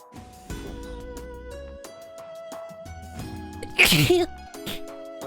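A single sharp sneeze bursts out partway through, loud and close, with background music playing underneath.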